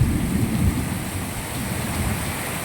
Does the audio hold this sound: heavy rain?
yes